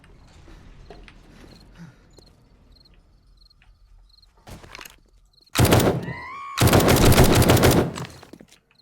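Gunfire from 7 Days to Die: two loud, dense bursts of shots close together in the back half, following quieter game ambience with faint insect-like chirps.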